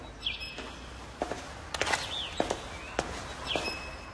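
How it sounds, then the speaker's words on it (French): Short chirps and whistled bird notes, including one brief rising phrase, come through over soft scuffing footsteps and a few sharp taps outdoors in early spring. The notes are moderately close and scattered, and nobody talks. "C'est le chant du pinson."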